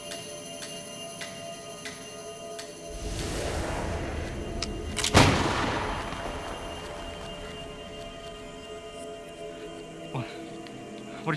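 A single sharp gunshot rings out mid-scene in a short film, a loud crack followed by a decaying tail over a low rumbling ambience, with a brief later thump.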